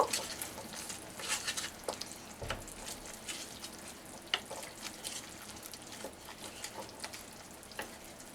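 Bata fish mixed with turmeric and salt in a pan: soft, intermittent scraping and stirring over a faint sizzle, quiet and close, with no talk.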